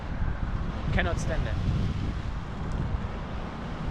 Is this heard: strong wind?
yes